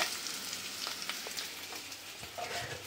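Fried potatoes and vegetable stalks sizzle softly in a wok while occasional scrapes of stirring break through the quiet, steady crackle.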